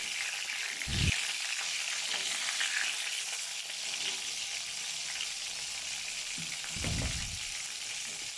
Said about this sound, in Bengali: পটলগুলোকে আমি একটু লাল লাল করে ভেজে নেব